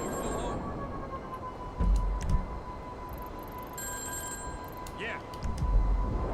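Payphone in GTA 5 Online ringing with repeated electronic telephone bell bursts, fairly close, over a dense game background with low rumbling thumps.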